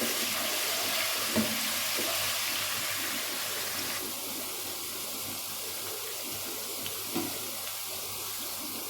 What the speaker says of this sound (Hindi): फ्लेम को हमने मीडियम कर देना है और इसको फ्राई कर लेना है।